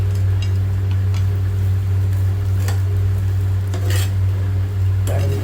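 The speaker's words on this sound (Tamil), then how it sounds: "சாதம் கிளறிட்டே உப்பு மட்டும் போதுமானு பார்த்துட்டு எடுத்து வச்சுக்கலாம்" A spoon works through mango rice in a pan with soft scraping strokes and occasional sharper clinks against the metal, over a low steady hum and faint sizzle, close and fairly quiet.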